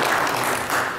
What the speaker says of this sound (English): Very huge applause for Margarita one more time.